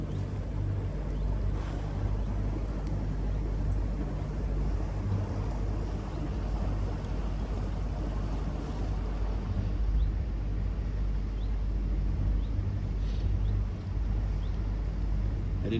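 A boat engine drones steadily at low pitch while cruising slowly up a river on the Norfolk Broads, with water and wind noise around it, continuous and unbroken throughout.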